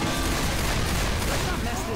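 Dense, sustained gunfire from the Left 4 Dead 2 video game, a loud continuous barrage of overlapping shots filling the whole stretch with no clear gaps.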